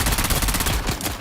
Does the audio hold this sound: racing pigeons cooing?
no